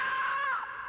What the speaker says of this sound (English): Ghostly shrieks are heard